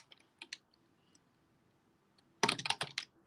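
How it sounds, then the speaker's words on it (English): Computer keyboard typing: a couple of isolated key clicks early, then a quick close burst of rapid keystrokes near the end, crisp against a quiet room. "I'm gonna type this."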